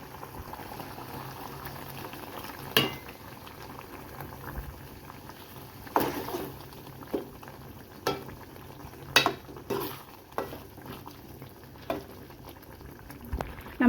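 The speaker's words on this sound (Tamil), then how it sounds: "நல்லா கொதிச்சிருச்சு, எண்ணெயெல்லாம் பிரிஞ்சு வந்துருச்சு." A pot of meal maker soya chunk gravy boils on the stove, with a constant low simmer punctuated by irregular thick bubbles popping and plopping, close and moderately loud with no talking.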